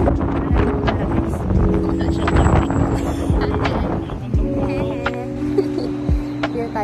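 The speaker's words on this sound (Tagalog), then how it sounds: "Ang hangin." Gusty wind buffets the microphone in loud rushes, with tonal hums and voices mixed in beneath.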